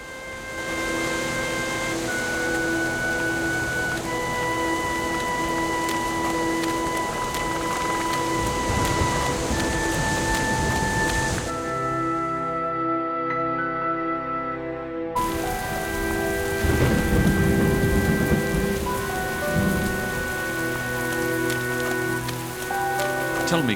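A steady, heavy downpour hisses without letup throughout a scene in the PC adventure game The Silver Lining. A faint low rumble of thunder sits beneath it, and a soft tonal music score plays alongside the rain.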